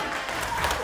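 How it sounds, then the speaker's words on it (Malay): Brief burst of applause from a small audience at a press conference for the Ratu Hijabista 2020 event, a steady patter of clapping filling the moment. "Semangatlah Tepuk tangan sikit."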